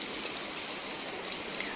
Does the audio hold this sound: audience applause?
no